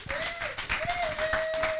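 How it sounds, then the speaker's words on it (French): A church congregation claps and applauds steadily for almost two seconds, with a sustained sung or held tone running over the clapping throughout. "Acclamons pour la gloire de Jésus"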